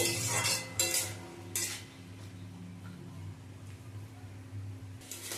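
Masala for a Bengali drumstick (sajne data) curry is stirred and sautéed in a pan over low to medium heat, with a few metal spoon clinks and scrapes at the start, then a quieter steady cooking sound.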